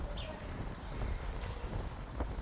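Wind blows outdoors and buffets the microphone with a steady, loud, rumbling roar and brief gusty swells.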